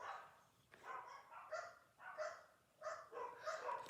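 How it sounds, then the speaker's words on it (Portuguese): Several dogs bark repeatedly in the distance at night, a faint, continuous chorus of overlapping barks under a steady background hiss, with no talking. "do nada começou essa barulheira de cachorro"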